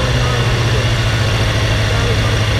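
A motorcycle engine idles steadily and loudly up close, a continuous low rumble with no change in pitch, held at idle just before the clutch is popped for a wheelie.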